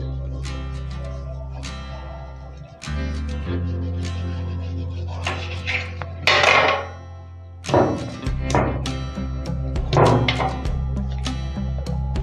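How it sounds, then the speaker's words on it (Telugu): A knife slices through the centre of a slab of homemade kalakand, an Ajmeer-style dry fruit milk sweet. Two soft thudding cuts land against the board over a steady low hum. "సెంటర్ కట్ చేసుకోవాలి"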